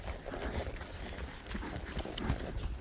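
Horse hooves clip-clop steadily on a trail during a horse's first trail ride, a low, continuous rhythm of footfalls with a couple of sharper clicks near the end, heard close with no talking.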